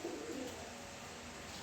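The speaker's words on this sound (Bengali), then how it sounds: "এই যে দেখেন এরা কিন্তু সব ব্রিডিং কবুতর।" Breeding pigeons coo softly from a loft, a low murmuring call most distinct early on, then fading into a steady hum of ambient noise with no talking.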